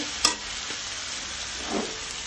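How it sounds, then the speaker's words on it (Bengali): Sweet pumpkin stir-frying in a pan, a soft continuous sizzle with a couple of brief spatula taps and scrapes. "মিষ্টি কুমারটা দেখেন কত সুন্দর করে ভাজি করছি"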